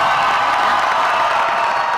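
A crowd at a high school graduation ceremony gives a round of applause, a dense, steady roar of clapping and cheering that fills the whole moment.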